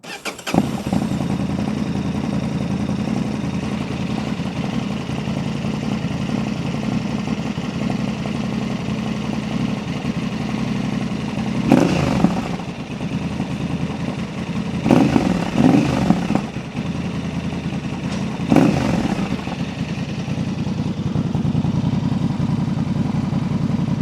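A 2025 Honda Transalp fitted with a Dominator MX2 slip-on exhaust, dB killer still installed, idles steadily nearby, then blips the throttle in three distinct revs, one of them a double rev.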